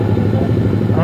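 A motorcycle engine runs steadily nearby with a low, rapid rumbling pulse, loud and continuous throughout.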